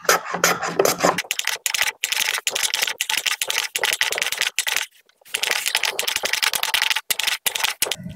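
Hand tool shaving and rasping material off a wooden shooting board during squaring work, a close run of quick scraping strokes with brief pauses and one longer gap, sounding dry and rhythmic.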